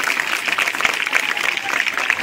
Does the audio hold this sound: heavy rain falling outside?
no